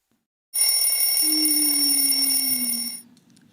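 A loud electronic alarm clock rings in a steady, piercing tone for a few seconds, then stops abruptly, leaving near silence.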